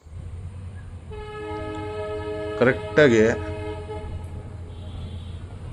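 A Bengaluru–Hospet Intercity train departing Ballari Cantonment railway station toward Hospet sounds two loud horn blasts, a short one then a longer one, over steady engine rumble, with a brief spoken word.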